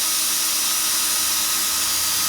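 A power drill bores out broken studs on a 1984 Chevy Blazer, a continuous, loud, hissing grind that holds steady throughout, with no talking.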